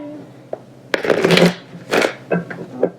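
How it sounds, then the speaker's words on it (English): Tarot cards being shuffled by hand in a series of brisk riffling bursts, close and loud, with short pauses between each shuffle. "let's get 2 more shuffles, please."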